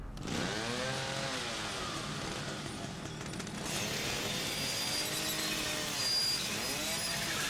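A chainsaw in the video game The Evil Within revs continuously and loudly, its engine pitch swinging up and down in repeated sweeps, with no speech over it.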